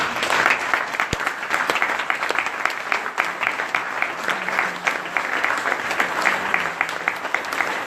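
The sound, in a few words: congregation applauding at a church crusade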